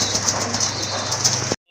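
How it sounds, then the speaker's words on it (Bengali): A pair of racer pigeons coo in a loft among fancy pigeons kept for sale, a short close burst of low cooing over steady background hiss that cuts off abruptly. "প্রথমেই দেখতে পাচ্ছেন আপনারা এক জোড়া রেসার কবুতর"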